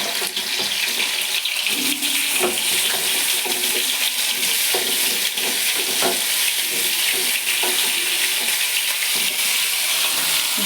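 Raw banana curry with cumin and bay leaf sizzles steadily and loudly in a pan, with a constant frying hiss and occasional stirring scrapes throughout.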